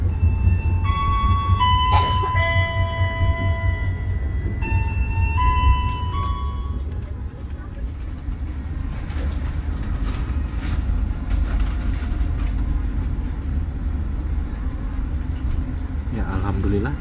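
Argo Bromo Anggrek executive train pulling into Surabaya Pasar Turi station: a bright multi-note chime sequence rings out at the start, then a steady, loud low rumble and rolling noise carry on to the end.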